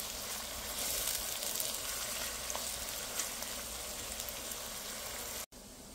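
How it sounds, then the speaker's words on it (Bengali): Onion frying in oil until brown, a steady close crackling sizzle with faint stirring that cuts out briefly near the end and then resumes, with no voices. "পেঁয়াজটা দিয়ে দেবো। পেঁয়াজটা ব্রাউন কালার হলে তারপরে আদার আর রসুনের পেস্ট একটু কষিয়ে নেব।"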